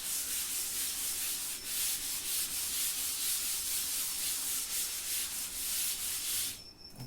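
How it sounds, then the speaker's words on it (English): A diagram is rubbed off a board with quick back-and-forth scrubbing strokes, a close, steady dry swishing that continues for several seconds before stopping abruptly. "I will rub this diagram."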